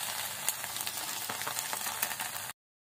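Small battered shrimp fry in hot oil for a countryside home dinner, producing a steady, close, crackling sizzle with no pauses and no voices.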